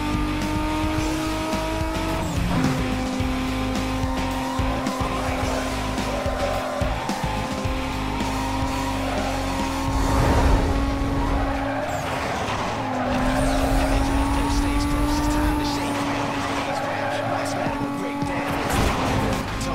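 A Nissan GT-R races in the video game Need for Speed Most Wanted, its engine whining steadily through gear changes with tire squeals and skids, loud and continuous throughout.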